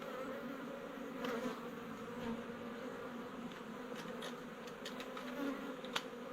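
Bees swarm and buzz steadily around the hive of a tree that fell in a bad storm, a dense, continuous hum close by, with a few sharper passes of individual insects near the microphone.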